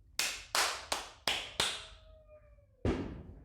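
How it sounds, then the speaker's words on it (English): Several sharp hand claps ring out close and loud at a steady pace, five in quick succession, then a brief pause with a faint tone before one last clap, during a live-streamed news show. "my producers continue to tell me to clap"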